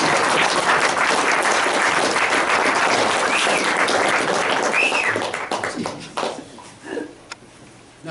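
A colloquium audience at a university physics talk claps loudly and densely for several seconds, the applause thinning and tapering off into scattered claps and quiet near the end.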